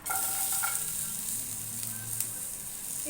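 Onion and garlic fry in hot oil for a tomato-onion chutney, making a loud, steady close-up sizzle with a few light clatters at the start.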